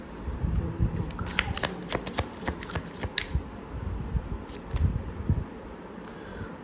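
Tarot cards being shuffled by hand, a steady riffling and brushing of card stock with sharper flicks scattered throughout, soft and close with no talking.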